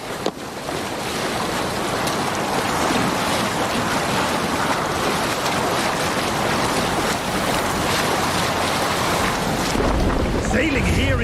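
A ship sails on open water in Assassin's Creed Valhalla, with loud, continuous sea wash and surf rushing against the hull, steady wind noise throughout and no pauses.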